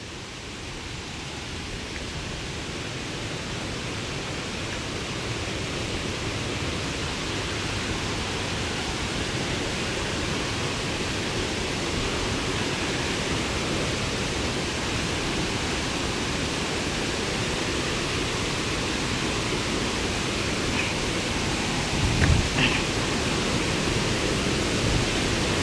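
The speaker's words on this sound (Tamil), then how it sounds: "மேலேருந்து உள்ள தண்ணி தான் இங்கே கீழே வருது." Karumparai waterfall near Keeriparai in Kanyakumari district rushing in a steady, dense roar of falling water, constant and close throughout with no voices.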